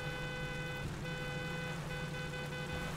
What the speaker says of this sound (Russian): Гудок.